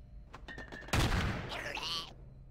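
A grenade blast in the sci-fi tactics game Stellar Tactics: a sudden loud burst of crackling, rumbling noise that hits partway through, followed by a fading whoosh and debris-like tail after some quieter clicks.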